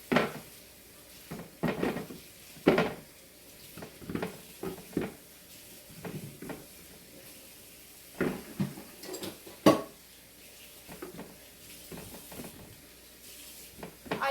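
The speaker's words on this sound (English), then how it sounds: "I'm going to grab this big bowl right here." A big bowl is grabbed and handled in a home kitchen while preparing potatoes, with close clunks and knocks of dishware at irregular intervals amid quieter rustling.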